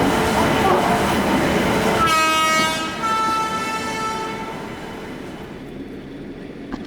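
The Chennai Express train at Mumbai's Chhatrapati Shivaji Maharaj station rumbles loudly, then sounds a long, layered horn blast that fades out slowly over the continuing clatter, with voices in the background.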